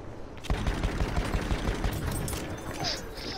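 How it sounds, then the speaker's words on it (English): Rapid bursts of tank and gun fire ring out in a war video game, a close volley of shots cracking in quick succession before fading into lingering rumble. "tanks just shot at me"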